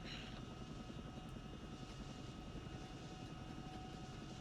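A Chinook helicopter flies in a military video game, its rotor and engine making a continuous, fairly distant drone with no break.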